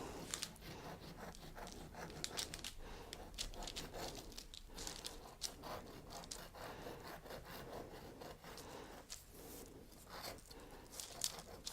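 Knife sawing through a zebra stripe sponge cake, a faint, close, rasping scrape repeated in uneven strokes with no talking.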